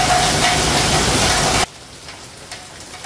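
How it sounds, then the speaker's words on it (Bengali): Heavy rain falling, a loud dense broadband wash that suddenly cuts to a much fainter patter with scattered soft knocks. "আর খুব বৃষ্টি হচ্ছে"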